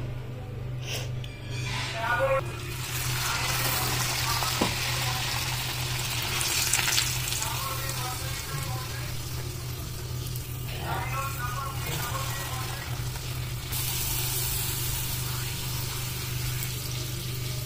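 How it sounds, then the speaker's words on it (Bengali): Luchi frying in hot oil for breakfast, with a soft continuous sizzle and bubbling bursts that swell and fade over a low steady hum, plus occasional sharper clicks and handling noises. "চলো ফটাফট এখন ভেজে নিই লুচিগুলো"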